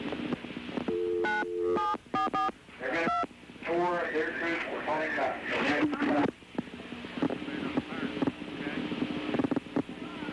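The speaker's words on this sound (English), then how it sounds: "You can hear the 911 tones on the telephone." Touch-tone telephone beeps dialing 911, a quick series of short tones, followed by a burst of warbling ringing and muffled voices over a background hum.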